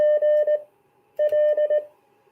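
Morse code CW tones sending the letters GL, keyed as a steady beeping tone in two clean bursts of dots and dashes separated by a short pause, clear and alone with no talk.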